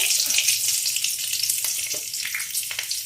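Green chilli and bay leaf sizzle in hot oil in a kadai, a steady, close, bright frying hiss that runs the whole time with small crackles and no talking.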